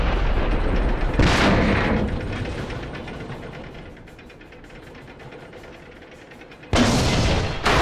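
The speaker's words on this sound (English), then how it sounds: "T95 just fired." Two heavy cannon blasts from a T95 tank destroyer in World of Tanks boom out, one early and one near the end, each a loud sharp crack with a rumbling tail, separated by quieter engine and battle noise.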